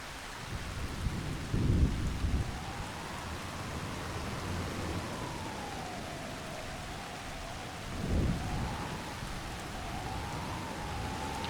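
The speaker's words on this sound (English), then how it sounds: "This feels like regular old rain, right?" Rain and thunder in the farming video game Farming Simulator 25: steady, faint rainfall hiss with two low rumbles of distant thunder, and a soft wavering whistle-like tone drifting through.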